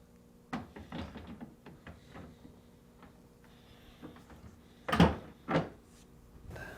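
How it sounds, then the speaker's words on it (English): A Whirlpool refrigerator's freezer door is lifted and hung onto its slides, hanging tabs and bolts seating into notched struts: a string of soft knocks and rattles, then two sharper clunks near the end, close and fairly quiet. "To install the freezer door, align the hanging tabs near the bottom of the door to the slides and the bolts to the notches on the hanging struts."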